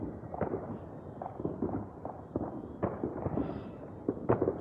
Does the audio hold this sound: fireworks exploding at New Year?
yes